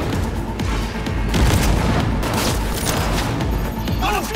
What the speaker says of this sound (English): We'll spam the grenades.